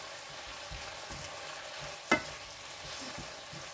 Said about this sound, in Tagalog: Tapos, ilagay na natin ang isda.